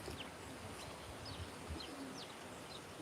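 Racing pigeons arriving home from an 83-mile race from Okehampton give soft, low coos. A few high chirps break through, faint over quiet outdoor background noise.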